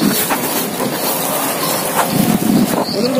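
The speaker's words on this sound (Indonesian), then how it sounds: "Kencang sekali angin." Strong, gusty wind blowing during a kite-flying outing, a steady broadband roar with buffeting gusts against the microphone, while voices shout faintly underneath.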